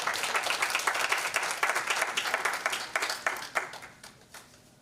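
A church audience at a Haitian evangelical ladies' day service claps to welcome a minister, a dense burst of applause that swells briefly and then thins and fades out over a few seconds.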